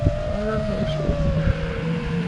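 A quad ATV engine revving while two riders share the machine, a buzzing motor note that rises and wavers with the throttle, close and loud, with rumbling bumps underneath.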